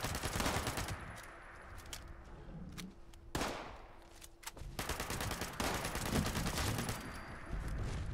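Rapid automatic gunfire from the video game Fallout 76 rattles in dense bursts and single cracks almost continuously, loud and close with brief gaps, and no talking over it.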